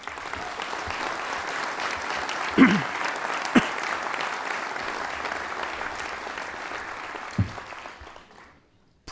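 An audience at a New Year's wishes ceremony applauds in a steady, dense wash of clapping that holds evenly, then fades out near the end.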